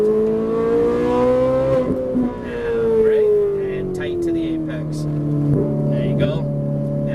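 A Ferrari 458 Italia engine pulls hard on a race track, its steady howling tone climbing and easing as the throttle changes, loud and close from inside the car, with a voice talking over it.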